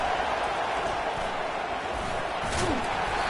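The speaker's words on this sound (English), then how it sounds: "listen to this crowd noise. This stadium is vibrating" A loud, steady roar of a packed stadium crowd at an NCAA 25 college football game, a dense continuous wash of noise with no breaks, under a voice talking.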